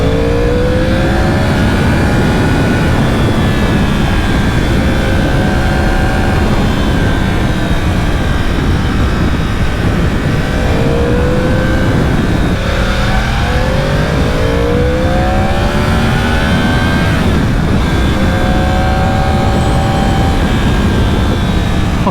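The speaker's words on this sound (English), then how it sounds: "Man, I love that sound. That cross-plane crank sound." A Yamaha R1 sport motorcycle with a cross-plane crank engine revs hard and close, its loud howl sweeping up repeatedly through the gears in a continuous run of acceleration with no talking.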